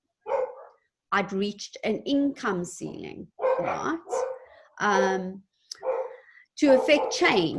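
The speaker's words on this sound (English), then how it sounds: "sorry about the dogs, so you just have to ignore them now" Dogs bark in short, sharp bursts mixed into an ongoing conversation indoors, the yaps and woofs coming in quick clusters between and over a person's talking at fairly close range.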